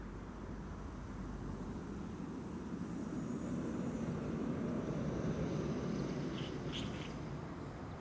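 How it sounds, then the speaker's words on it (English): A Garuda Indonesia Boeing 777-300 airliner climbs away from Amsterdam Schiphol, its faint, distant jet rumble swelling slightly mid-way, with a few brief bird-like chirps near the end. "Garuda Indonesia in the SkyTeam livery going to Jakarta in Indonesia."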